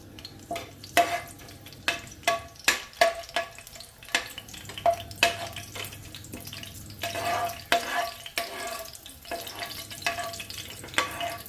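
Chicken stew seasoned with garam masala is stirred in a pan, a spoon scraping and clacking in irregular strokes over a soft simmering sizzle, close by and without talk.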